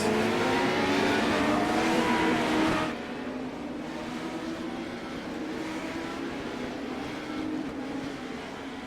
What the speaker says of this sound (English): All the cars are rolling here at Thompson.